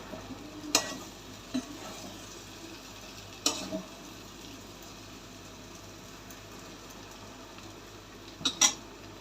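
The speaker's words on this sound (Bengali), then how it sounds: "এবার আমি ঢাকনাটা খুলে আর একটু নেড়ে দেবো।" A spoon stirs dry potato curry (aloor dom) in a pan: three or four brief, faint scrapes and clinks spread over a quiet background, with no talking.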